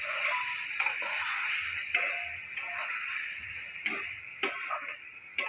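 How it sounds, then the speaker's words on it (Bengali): A spice mix with a little sugar sizzles steadily in a hot pan on a gas stove, a continuous close hiss broken by occasional sharp ticks and clinks of a utensil against the pan. "এখন এটা ভাজা হবে মশলাটা।"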